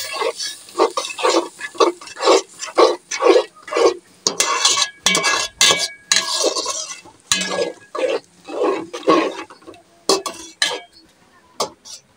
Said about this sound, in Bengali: ভালোভাবে নেড়ে চেড়ে মশলাটা কষিয়ে নেব।